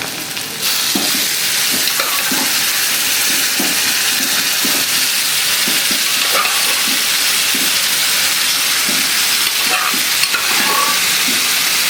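Chana dal poured into a hot pan of sizzling spice masala for lauki chana dal, giving a loud steady frying sizzle and hiss with faint stirring scrapes throughout.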